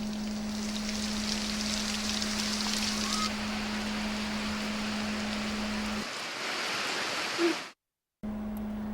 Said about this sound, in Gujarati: વરસાદી ઝાપટું પડ્યું હતું જેથી વાતાવરણમાં ઠંડક પ્રસરી હતી